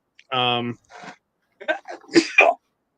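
A short, sharp burst that sounds like a sneeze, followed by a few brief voiced sounds as someone speaks quietly afterward.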